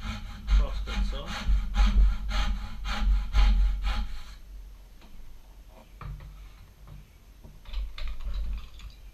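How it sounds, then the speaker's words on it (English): A hand crosscut saw cuts wood for a foundry casting pattern, giving a run of quick, rhythmic rasping strokes. Softer, scattered scraping and taps follow. "Get a saw on it. Use the cross cut here."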